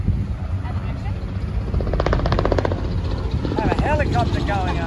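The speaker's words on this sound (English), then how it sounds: "Have a helicopter going on." A helicopter flies overhead during a West Coast Swing and Modern Jive dance lesson, its steady rotor thrum building in the middle and continuing beneath voices.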